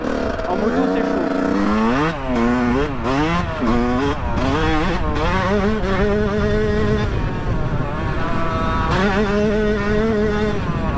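A Yamaha YZ125 two-stroke dirt bike rides woodland trails, its buzzing engine close and loud, pitch sweeping up and down in repeated sharp revs before settling into a steadier whine.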